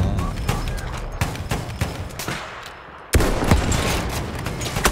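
Battlefield 1 multiplayer gunfire with a sniper rifle: sharp, loud shots crack at irregular intervals over a dense battlefield din, with a louder burst of firing near the end.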